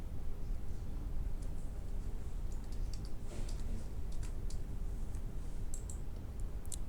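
Computer mouse clicks and keyboard keystrokes while creating a folder, with faint, scattered ticks and taps over a steady low hum, clustering more densely toward the end.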